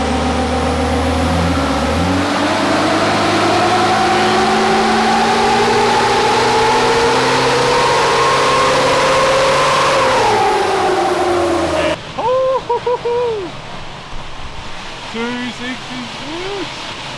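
A swapped Nissan Patrol engine revs on a dyno run, its steady roar climbing in pitch for about ten seconds before dropping off, followed by brief voices over a quieter background.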